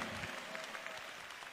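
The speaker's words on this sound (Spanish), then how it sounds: "Demos el aplauso al que vive en esta hora" A faint, steady wash of applause from a crowd at a national youth convention service in Lima, Peru, with no distinct individual claps.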